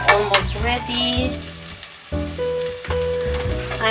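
Garlic frying in a pan for pork adobo, a steady close sizzle with stirring scrapes and bursts of crackle throughout.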